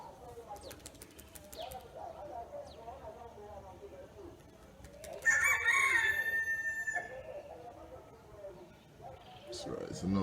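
A rooster crows loudly in the morning in Ghana, one long strained call standing out over soft ambient outdoor noise, with other faint bird sounds and someone talking quietly around it.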